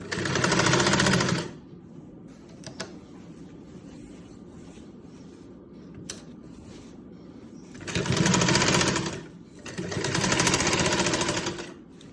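A sewing machine stitching the hem of a salwar runs in loud, fast bursts, one at the start and two near the end, with quiet handling and fabric shuffling in the pauses between.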